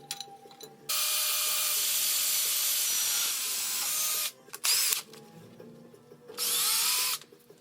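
A power drill runs in three loud bursts drilling and tapping a hole in metal on a vertical mill, a long steady whine followed by two shorter runs, with quiet gaps and small knocks between them.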